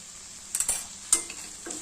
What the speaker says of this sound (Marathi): आता आपण मिक्स करून घेऊया आणि चवीनुसार मीठ टाकायचं